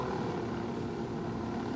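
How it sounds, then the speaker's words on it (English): Helicopter in the video game Ghost Recon Wildlands, a steady loud rotor and engine drone that holds without a break, with no talking over it. "yeah, I'm gonna park the chopper."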